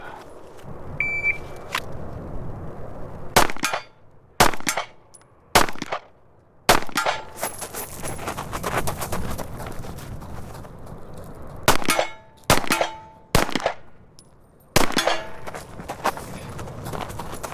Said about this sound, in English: We will go grab the Hellcat, repace targets, and shoot it now.